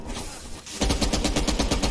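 Rapid automatic gunfire bursts out after a short lull in a Call of Duty: Black Ops Cold War game, a dense rattling string of shots at steady rhythm, fairly loud.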